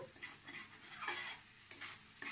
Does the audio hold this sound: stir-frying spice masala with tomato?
yes